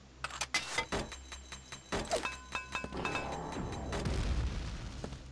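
In the video game Quake 2, a series of sharp metallic clinks and thumps gives way to a deep, rolling grenade explosion rumbling out toward the end.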